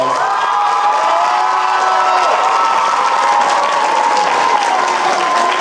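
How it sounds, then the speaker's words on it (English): A large crowd at a school band concert applauds loudly and steadily, with cheers and whoops mixed into the continuous clapping. "Can we give them a round of applause?"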